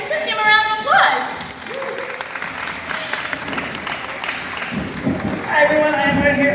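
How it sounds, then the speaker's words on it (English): An audience at a bird show claps in a sustained round of applause, a dense patter that swells and ebbs, with a presenter's amplified voice speaking over it at the start and end. "Let's give him a round of applause."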